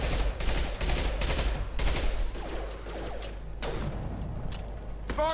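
Gunfire in the sci-fi shooter Mass Effect 2, including an impact shot, comes as clusters of sharp shots and rattling bursts over a low rumbling battle din, loud at first and then sporadic.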